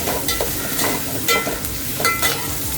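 Green chilies and curry leaves fry in hot oil with a steady, close sizzle, broken by a few sharper scraping stirs of a spoon in the pan.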